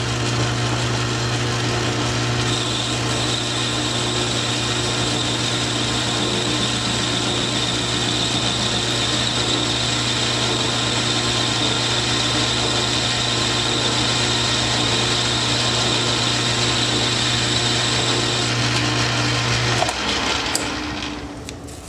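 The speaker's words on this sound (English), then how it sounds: "I'm going to try a finishing cut." A metal lathe takes a light finishing cut with an A.R. Warner tool holder and insert, a steady machining whine with a constant motor hum running for about twenty seconds, then winding down near the end.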